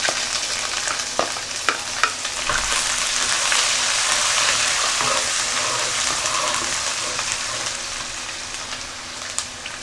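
Dried chillies, ginger and garlic fry in hot oil with a loud, continuous sizzle, sprinkled with sharp crackles and pops throughout.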